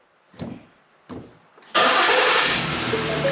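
A 2019 Ford Explorer's starter gives two short cranking bursts, then a third catches and the engine fires into a loud, steady running roar close by.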